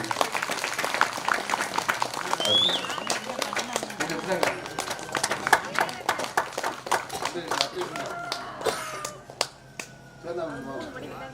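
Villagers clap in a dense, lively patter as a man is honoured with a flower garland and shawl at a village ceremony, with someone speaking over the clapping throughout.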